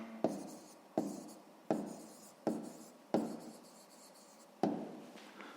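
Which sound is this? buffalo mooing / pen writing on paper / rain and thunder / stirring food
pen writing on paper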